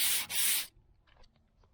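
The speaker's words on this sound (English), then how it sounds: "So we got some 180, and all you're going to do is block this down." A sanding block with 180-grit sandpaper rubs over the body of a 2002 Chevrolet Avalanche pickup in two quick, close, harsh strokes with a brief gap between them, followed by faint handling noises.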